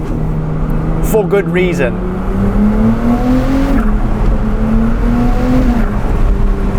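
A Novitec-tuned Ferrari 296 GTS with a twin-turbo V6 revs and pulls away, a rising engine tone with a brief high turbo whistle early on, while someone talks over it.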